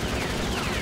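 Sentry gun in the kart racing game Crash Tag Team Racing firing a quick, dense burst of rapid shots, loud and close, lasting under a second.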